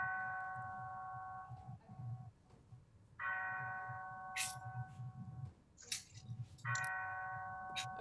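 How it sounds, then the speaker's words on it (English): A bell sounds three times with sustained, ringing tones in a quiet room, each toll fading out before the next, with soft clicks and knocks between them. "I don't know what that bell is"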